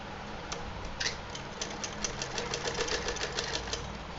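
A sewing machine stitches a small doll dress with a drawstring, its needle clattering in a quick, steady rhythm of repeated ticks at moderate distance, with no talk.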